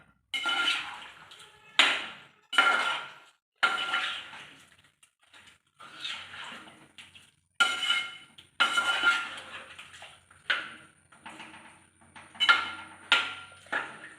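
Chicken curry being stirred in a pot, with a repeating series of wet scraping and clattering strokes that rise and stop again and again, close and fairly quiet, with no talking.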